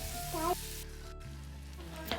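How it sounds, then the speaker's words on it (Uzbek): Meat and onions frying together in a pan for a potato and chicken dish, a steady close sizzle with brief stirring scrapes and no talking. "qovurishni davom ettiramiz."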